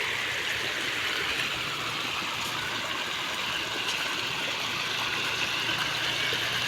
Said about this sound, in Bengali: দেখতেই পাচ্ছ বস্তার ভিতর দিয়ে কিন্তু জলটা প্রবেশ করছে।